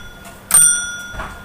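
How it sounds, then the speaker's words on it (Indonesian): Electric automatic school bell wired through a flasher, ringing in interrupted bursts with a bright metallic tone, loud and close, starting abruptly and cutting on and off without talk. "belnya, dia akan menyala selama 1 menit dengan putaran terputus-putus ya"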